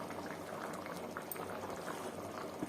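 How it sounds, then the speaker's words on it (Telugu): Aloo kurma, a potato curry, bubbles in a pot, a soft steady simmering burble with faint pops throughout, quiet and close, with no talk. "ఒక 5 నిమిషాలు ఉడకనిస్తే బాగా మెత్తగా ఉడుకుతాయి."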